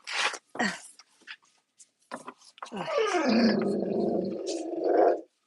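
A house dog growls in a long, rising rumble after a few short huffs and snorts, close and fairly loud, ending in a strained whining edge.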